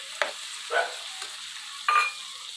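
Tomatoes stirred into a pan of fried ginger garlic paste give a few brief bursts of sizzling and scraping, separated by near-silent gaps, close and clear without talking.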